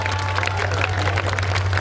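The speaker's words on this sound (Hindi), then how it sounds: "सब लोग जोरदार ताली बजा के अपना अपना स्वागत करने का काम करिए" A crowd at a political rally in Ghazipur claps hands in a dense, continuous patter, fairly loud and steady through the whole moment, with a low hum from the sound system underneath.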